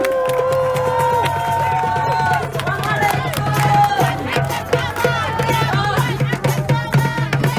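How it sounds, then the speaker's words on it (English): A large crowd at a Sudanese community rally in Northern California cheers loudly with high, sustained voices and shouts. The roar is continuous and close, with some clapping mixed in. "Please join me, everyone, with a warm round of applause"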